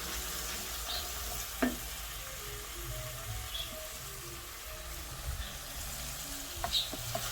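Garlic, mirepoix of onion, celery and carrot, chopped apple and mushrooms sautéing in olive oil, a steady close sizzle with a couple of brief stirring clinks.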